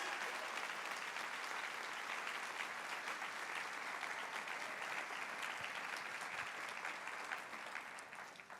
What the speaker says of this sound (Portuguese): Você pode aplaudir mais forte em nome de Jesus?